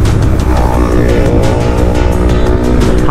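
A Honda Highness motorcycle being ridden and braked on a road, with loud, steady engine and road noise that fills the whole stretch and shows no clear pause.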